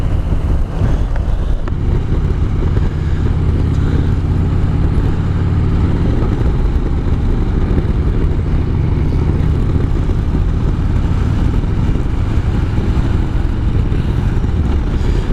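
A Harley-Davidson Dyna motorcycle cruising along a road, its engine droning steadily with rushing wind noise for the whole ride, loud and close with no breaks.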